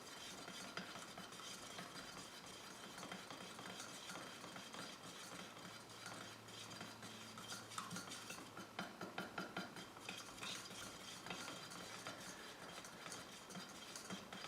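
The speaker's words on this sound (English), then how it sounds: "Now we stir." Paint mixed with activator is stirred in a container, giving a quiet, continuous scraping and clicking texture with faint rhythmic knocks throughout.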